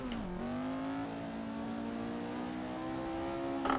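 A classic Lotus Formula 1 car engine in Assetto Corsa at the 1966 Spa circuit, a steady, loud, harmonic drone that dips briefly then holds a gradually rising pitch under sustained throttle.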